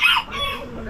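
A chicken clucking close by, a short sharp squawk followed by lower throaty clucks within about a second, fairly loud over faint background noise.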